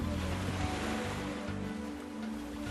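Mediterranean Sea waves wash and surge in a steady, rushing roar, heard from a train window, with a low mechanical hum running underneath.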